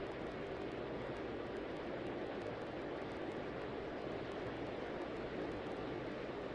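Steady broadband jet roar from a McDonnell Douglas MD-90 on its takeoff roll at Atlanta in the Tower!3D Pro air traffic control game, constant and fairly distant throughout, with no voices.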